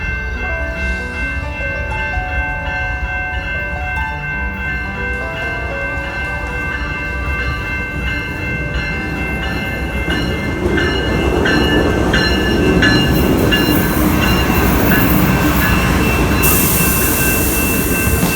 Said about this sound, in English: See that train in the background?